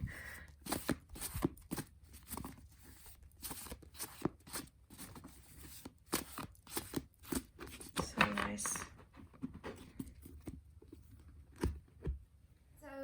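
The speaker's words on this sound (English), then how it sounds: "the sound of them shuffling, it just brings me much joy" Rapid papery riffling and flicking of tarot cards being shuffled in bursts, close to the microphone, with brief pauses between shuffles.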